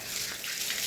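A bar of Rin washing soap, freshly broken, is dipped into water, giving a brief close splash and trickle of running water.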